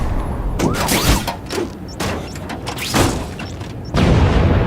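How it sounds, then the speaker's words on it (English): Fireworks burst over New York in the Spider-Man open-world game, a run of booming, crackling explosions that come in quick bursts, several loud and close, with a brief gap before a final heavy blast. "Friendly neighborhood fireworks."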